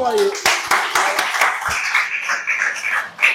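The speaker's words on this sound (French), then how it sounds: "On applaudit pour lui." An audience at a talk on finding one's direction and mission claps, a short burst of close, crisp hand claps mixed with talking and cheers.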